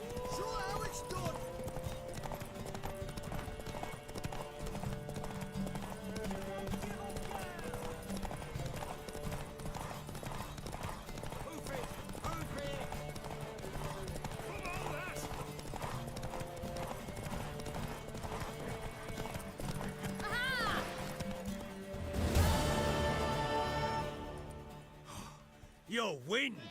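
Horse hooves clip-clop steadily through a race in The Witcher 3, a rhythmic pounding of a mare's gallop under game music and voices, with a brief louder burst and a snort near the end.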